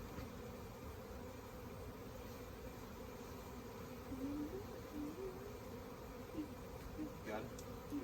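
Honeybees buzzing around a wild hive inside a holly bush: a steady low droning hum of many insects, faint and continuous, with a few individual bees passing closer, and quiet human voices faintly in the background.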